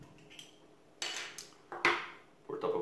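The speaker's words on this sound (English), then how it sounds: "Let's start with opening the bottle like this." Crown cap prised off a bottle of Hofbräuhaus Traunstein Zwickl beer: a few sharp metallic clicks and a bright pop-like snap, close and fairly loud, with no talk.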